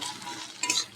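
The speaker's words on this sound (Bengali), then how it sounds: "কড়াইতে শুকনো লঙ্কা পেঁয়াজ দিয়ে দিয়েছি" Dried chilies and onion fry in a wok, making a soft, continuous sizzle, then a brief louder burst of stirring and scraping near the end.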